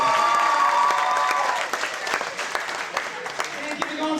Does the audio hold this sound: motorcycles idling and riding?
no